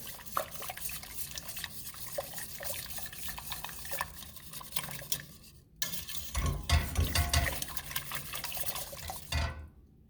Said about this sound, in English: And then I'm going to whisk that in.